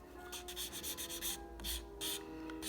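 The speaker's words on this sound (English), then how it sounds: "I'm going to use my buffing block to soften up my edges and go across the sides and stuff" A buffing block scrubs across fingernail edges and sides in a quiet series of short, rhythmic rubbing strokes, about eight passes with brief pauses between them.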